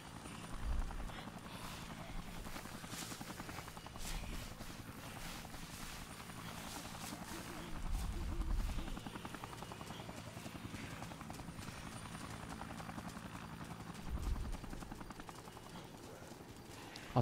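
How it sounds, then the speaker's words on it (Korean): Helicopter in the zombie video game Dead Rising, a steady rotor drone throughout with periodic louder thumping swells and clattering game sounds, alongside speech. "시민을 쏘는 헬기 어딨어?"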